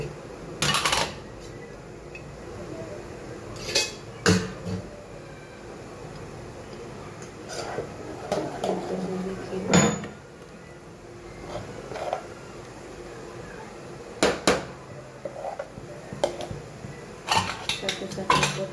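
Metal dhokla plates clatter and clink on a kitchen counter as they are set out and greased with oil, giving scattered sharp knocks and scrapes amid quieter handling noise, with someone talking between the sounds.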